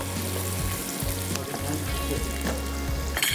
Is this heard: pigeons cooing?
no